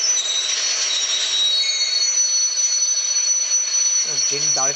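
A video-game train pulls into a station, with a steady metallic rolling hum and a sustained high-pitched wheel squeal, loud and close throughout; a voice begins talking near the end.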